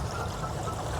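Water overflowing from a koi pond filter and dripping down into the pond, a steady soft trickle and pour heard close up, continuous and fairly quiet, with no voices.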